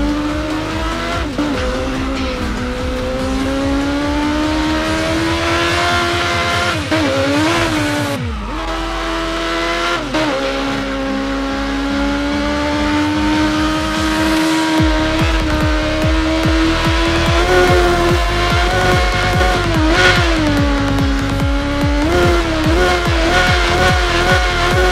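A Krieger Uberschall 8 roars through a boost in Burnout Paradise Remastered, a loud sustained engine whine that rises and falls with gear shifts, joined by tire squeals and skids, continuous and close throughout.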